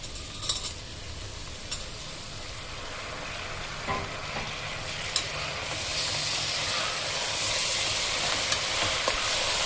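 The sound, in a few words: chopped tomatoes added to sizzling broad bean curry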